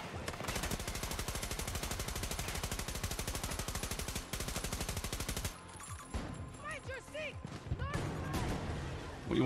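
Rapid NTW-50 rifle fire in a video game while strafing: a long, steady, machine-like string of loud shots that stops abruptly, followed by quieter game effects and someone talking.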